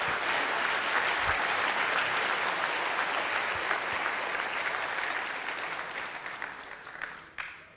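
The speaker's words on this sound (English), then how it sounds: "let's give them a big round of applause" Audience applause at the closing session of FOSDEM 2013, a large open-source conference, a dense steady clapping from a big crowd that slowly thins and fades toward the end.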